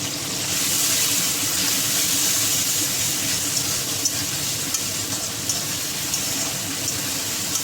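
Ground ginger, garlic and green and dried chilli paste sizzles in a hot pan for a chicken and vegetable curry, a dense, even hiss that stays loud and close without pause.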